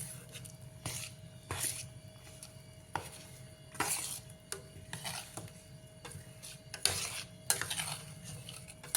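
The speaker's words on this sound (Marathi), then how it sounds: "हे बेडेकर मसाला आणि अर्धी वाटी मीठ आता हे चांगलं आपण हलवून घेऊया" Pickle masala with Bedekar spice, crushed asafoetida and salt is stirred in a vessel, giving intermittent close metallic scrapes and clinks at irregular intervals over a quiet background.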